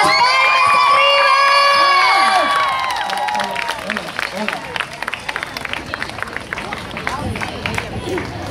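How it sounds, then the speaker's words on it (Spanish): A concert crowd in Machala cheers, shouts and claps, loud and dense with high shrieks at first, then settling into steadier clapping and scattered yells. "Quiero la emoción, un aplauso, gritos, las palmas arriba."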